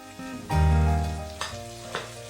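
Spices with turmeric, salt and chopped tomato frying in a pan, a sizzle that swells then eases with a few sharp scrape or stir hits.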